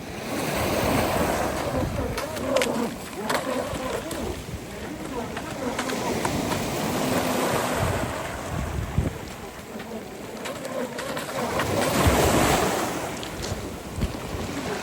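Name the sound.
small sea waves on the shore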